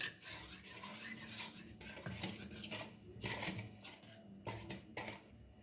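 Cinnamon roll dough ingredients, including flour, being mixed in a bowl: steady scraping and clinking of a utensil against the bowl, with rhythmic louder strokes throughout.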